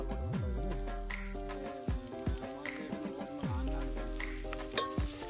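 Onions and tempering spices frying in a pan at an outdoor jungle cookout, a steady close sizzle with stirring scrapes breaking through at intervals.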